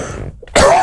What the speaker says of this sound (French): Je tousse, comme ça on pourra le couper.